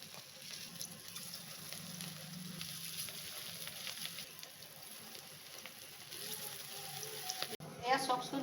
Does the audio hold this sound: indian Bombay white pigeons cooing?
no